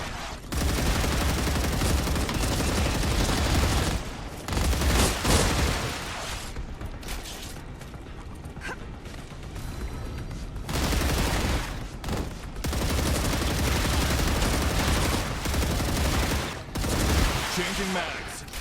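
Sustained gunfire from weapons in the sci-fi survival game StarRupture, loud dense bursts running through most of the stretch with brief gaps, as during a magazine change, under occasional speech.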